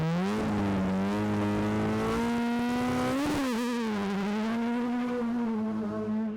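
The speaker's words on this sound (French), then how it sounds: "le vrombissement des moteurs, les voitures carénées" A Renault rally car engine revs hard and holds a high, steady pitch, dipping and surging once midway before settling again, loud and close with no talk.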